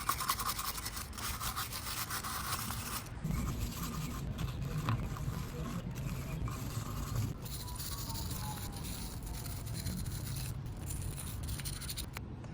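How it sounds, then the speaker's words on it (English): A stainless steel wire brush scrubs salt buildup off an outboard motor, giving close, continuous raspy scratching strokes at moderate volume with no talk over it. "we're gonna go ahead and use a stainless steel brush and start"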